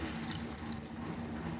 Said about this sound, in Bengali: এখন আমি পরিমাণ মতো একটু ঝোল দিয়ে দেব